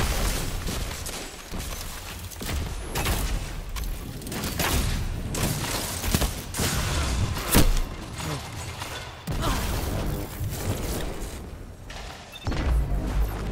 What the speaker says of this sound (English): They're like a lot of things shooting at me.